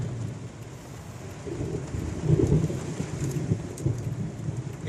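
Heavy rain pours steadily during a thunderstorm on a drive home, with low rumbling swells of thunder building in the middle and fading again, close and fairly loud throughout.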